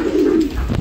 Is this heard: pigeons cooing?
yes